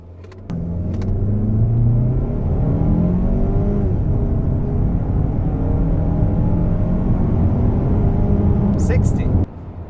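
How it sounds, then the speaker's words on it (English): Mazda CX-30 crossover accelerating hard in sport mode, its engine rising in pitch through several gear shifts as a loud, continuous in-cabin drone, with talking over it. "Now let's find out how fast this car is. Sport mode, no climate control."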